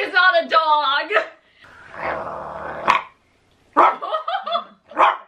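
A person's voice imitates a dog, with bursts of barking and a low growling stretch between them, loud and close, mixed with other vocal sounds.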